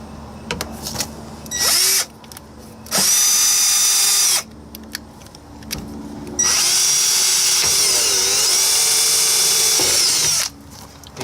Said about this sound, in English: some holes drilled here.